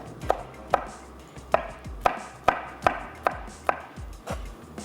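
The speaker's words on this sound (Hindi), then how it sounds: "तो हरी मिर्चें चॉप करके शामिल कर देते हैं 2 से 3" Green chillies are chopped with a knife on a cutting board: about ten crisp, evenly spaced chops close by, with no talking.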